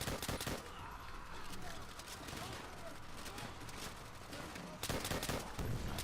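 M1 Garand rifle fire in Call of Duty World at War, with rapid, faint gunshots crackling in bursts at the start and again near the end, under a steady wash of battle noise.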